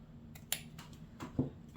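Scissors snip the thread ends after a bow is tied, giving a few small, quiet clicks and snips spread across a short moment, with no talking.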